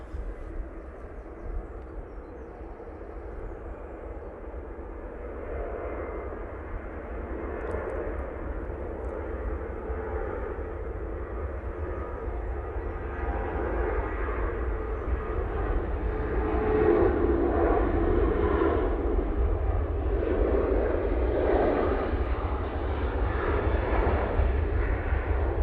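A Ryanair jet takes off from runway 05 left at Manchester Airport, its engine roar building gradually from a steady rumble to a louder, fuller rush with a deep low-end drone, heard alone.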